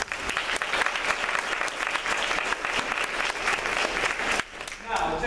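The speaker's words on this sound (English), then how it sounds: "I want you guys to please give them a round of applause" An audience applauds youth symphony students at a concert, giving a dense, loud, continuous wash of clapping that carries on for several seconds before thinning out, with a voice starting to speak at the very end.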